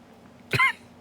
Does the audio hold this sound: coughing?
yes